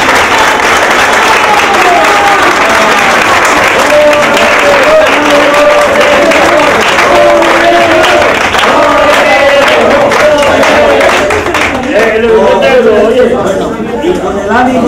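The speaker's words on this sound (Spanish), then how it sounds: "Un aplauso a él." An audience at a Romería celebration for the Virgen de la Cabeza applauds loudly and steadily for the full length, a dense wash of clapping with some crowd murmur mixed in.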